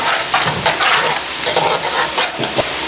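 Fennel seeds, almonds, coconut and raisins stirred into a hot pan of oil or ghee while making sweet jaggery rice, giving a steady close sizzle with scraping stir strokes throughout, no talk.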